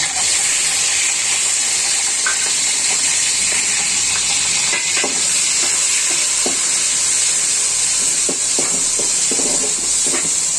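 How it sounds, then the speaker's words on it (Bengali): A blended paste of ginger, garlic, onion, black pepper and cumin sizzles loudly in hot oil flavored with bay leaves and cinnamon. The frying hisses continuously at close range, with scattered pops and crackles and no talking. "আমি এখন আমার বেটে রাখা মানে ব্লেন্ডার করা আদা রসুন পেঁয়াজ গোলমরিচ জিরা এগুলো ছেড়ে দিব"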